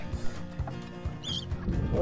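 A bird gives a brief, high call near a Windrider 17 trailer sailor on East Matagorda Bay, a short chirp standing out over a low, rumbling background.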